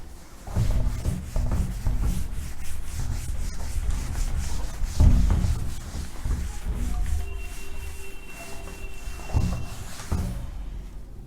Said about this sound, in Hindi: उससे पहले हम इसे रब कर रहे हैं